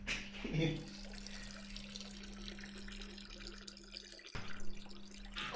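Urine runs into a toilet bowl in a steady, close trickle. It stops abruptly near the end while voices talk over it.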